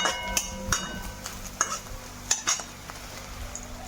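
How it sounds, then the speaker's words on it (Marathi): Onion frying in a pan for masala bhat gives a soft, low sizzle under sharp, irregular clinks and scrapes of a spoon stirring against the metal pan. "इथं कांदा भाजायला टाकलाय मी"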